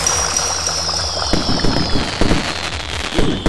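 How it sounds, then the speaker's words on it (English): Fireworks burst in space in the video game Pizza Girl, a dense run of crackling pops and booms over a bright whistling tone, loud and continuous with no talking. "Fireworks in space."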